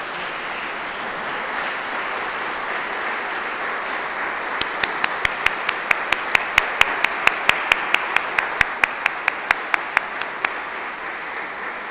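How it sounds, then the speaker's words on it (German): A congregation at a live church service gives a big round of applause, a steady wash of many hands that builds with some louder individual claps cutting through near the front before easing off. "Ein ganz großer Applaus."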